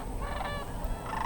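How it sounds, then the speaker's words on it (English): Canada geese honk in a loose chorus, several calls overlapping at a moderate distance over a steady outdoor background hiss. "Those are Canada geese."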